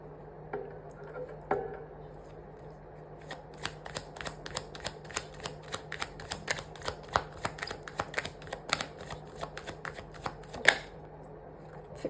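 Tarot cards being shuffled for a card reading give a steady run of crisp riffling and snapping bursts, close and fairly quiet, with no talking over them.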